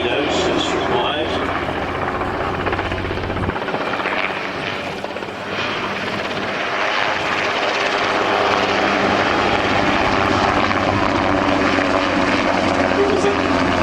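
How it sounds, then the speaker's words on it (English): A Wessex anti-submarine helicopter flying at an airshow, its steady rotor and engine roar loud and continuous, with a voice talking over it. "It was the first anti-submarine helicopter."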